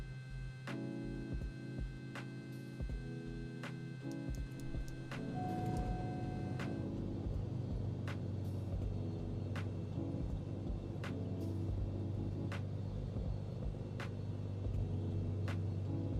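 A Cirrus SR22T piston engine starts in Microsoft Flight Simulator, with rhythmic starter clicks giving way to a steady low running drone that settles into a continuous idle rumble.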